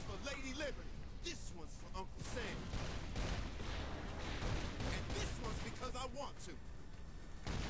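Rapid bursts of gunfire crackle in the Saints Row 4 video game, with volleys of shots and booms layered over one another throughout, under a steady, busy game soundscape.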